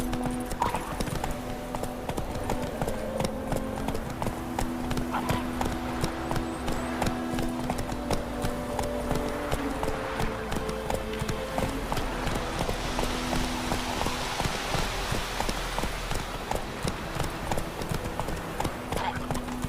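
Horse hooves clip-clop steadily at a riding pace in The Witcher 3, with game music and ambience layered underneath and an occasional faint voice.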